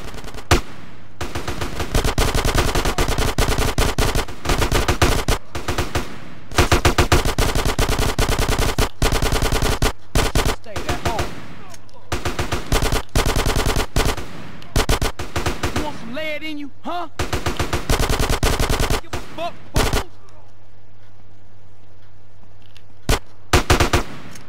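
Sustained bursts of machine-gun fire in Grand Theft Auto: San Andreas, loud and repeated in long rapid volleys with brief gaps, fading to quieter scattered shots at the end, with occasional voices in between.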